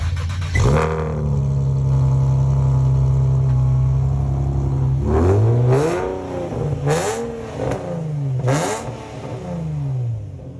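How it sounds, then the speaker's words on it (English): A historic sports car engine starts cold with a sharp crank and settles into a loud steady idle, then several quick rising revs and throttle blips bark from the exhaust close by. "Time for a cold start."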